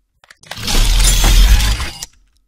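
A glass-shattering impact from the MotionPulse Micro Madness sound effects collection: one loud, dense crash that swells and sustains for about a second and a half before cutting off sharply, with a brief faint tick just before it.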